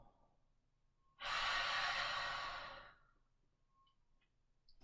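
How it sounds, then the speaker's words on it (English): A single deep breath drawn in and let out, a loud, broad breathy rush lasting nearly two seconds, close to the microphone, with quiet before and after. "Just by taking one deep breath,"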